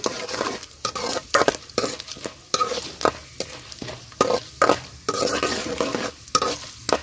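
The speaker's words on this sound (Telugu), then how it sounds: "జీలకర్ర, ఆవాలు కూడా వేస్తున్నాను చూడండి" Cumin and mustard seeds sizzle and pop in hot oil for a potato curry, with a steady frying hiss broken by repeated sharp crackles and stirring clinks of a utensil against the pan, close and fairly loud, no talking.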